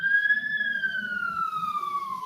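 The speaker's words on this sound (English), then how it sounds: "Just let that siren pass," A wailing emergency-vehicle siren passes, its steady tone gliding slowly downward as it moves away, loud and continuous over faint low background noise.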